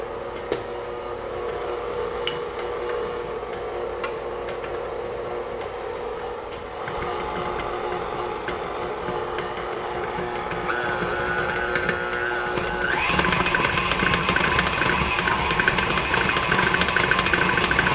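A stand mixer runs at low speed through biscuit dough, a steady motor hum and churn that carries on throughout and grows somewhat louder and brighter toward the end.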